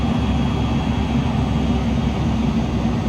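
Turboprop aircraft engine at high idle in a flight simulator game, a steady, loud, close droning roar with a deep rumble that holds evenly throughout with no talking.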